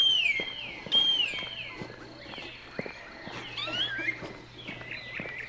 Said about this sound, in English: A lot of birds, a lot of animals. We're in the middle of the jungle